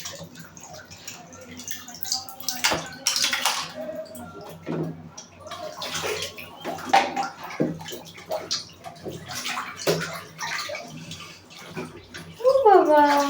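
A child splashes in bathwater while swimming about, with irregular sloshes and slaps close by throughout, and people talking over the water.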